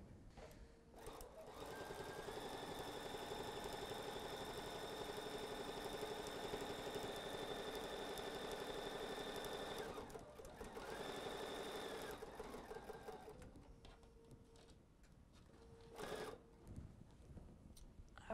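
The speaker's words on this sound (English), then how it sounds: "I'm just gonna sew that quarter inch line again." A sewing machine stitches a quarter-inch line through a quilt-as-you-go pillow cover, running in long steady bursts with a short pause partway and a few brief stops near the end.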